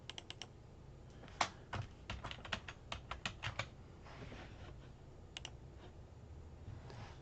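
Computer keyboard typing: a short burst of close, crisp key clicks in an irregular rhythm, followed by a few scattered taps over a quiet room hum.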